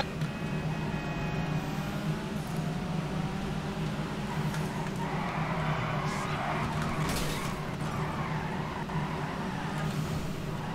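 Futo GTX drifting in GTA 5, a steady loud engine drone with tyre squeal and skidding rising midway, continuous and close, no talk.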